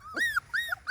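A Schnoodle puppy cries in three quick, high whimpering yelps, close and clear against a quiet room.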